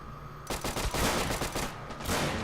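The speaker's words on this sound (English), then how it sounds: "the Brits have the high ground with lots of machine guns" Machine gun fire in a Company of Heroes mod battle between British and German forces. Rapid bursts of loud automatic gunfire erupt suddenly and continue as a dense, crackling fusillade.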